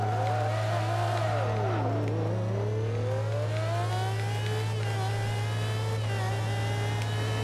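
A Ferrari race car in Forza Motorsport 2 revs steadily for the whole stretch, its engine pitch dipping, then climbing through long sweeping rises under a constant low hum.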